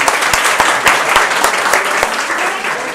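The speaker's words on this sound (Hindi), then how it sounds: "एक बार आप अपने लिए जोरदार तालियां बजा दीजिए" Energetic applause from a packed audience at a meet-and-greet session in Jaipur, loud overlapping claps with distinct sharp hand slaps punctuating the roar before it eases slightly at the end.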